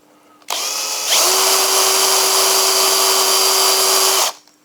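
A small power drill bores an eye hole in a wooden automaton chick, spinning up with a sharp whine that holds steady for about three seconds before stopping abruptly, close and loud.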